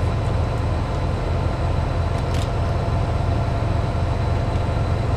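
Class 67 diesel locomotive running in Train Simulator 2013 around Didcot Yard, a steady low engine drone and rumble with faint rail noise, continuous and fairly loud with no talk.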